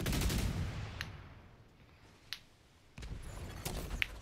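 Turrets fire in a video game, a rough burst of gunfire loud at the start and fading, then a sharp crack and a second stretch of shots near the end, with no voices.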